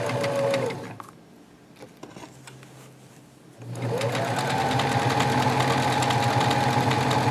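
A sewing machine runs fast along a quarter-inch seam on pajama pants, first in a short burst, then pausing briefly, then stitching in a steady, loud, close rattling run.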